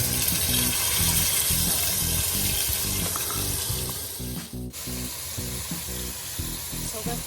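Pork frying in a pan for pork adobo sizzles loudly and continuously, with rhythmic stirring or scraping pulses and a brief dip midway.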